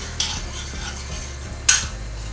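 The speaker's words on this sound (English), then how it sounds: "So you stir that together a little bit" Cider vinegar and sugar being stirred together, two clear clinks of a utensil against the container over a low background hum, with a quiet swish between them.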